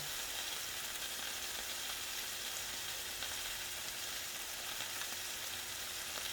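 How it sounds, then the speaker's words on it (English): Garlic butter steak sizzles steadily in a hot pan as it is basted, a constant close crackling hiss with no talking. "And I'm going to go ahead and start basting this one as well."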